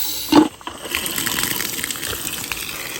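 Water gushes from a newly installed outdoor spigot, a brief loud burst at the start settling into a steady, fairly close rush of running water that continues alone.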